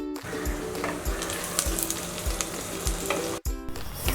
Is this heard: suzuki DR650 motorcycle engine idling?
no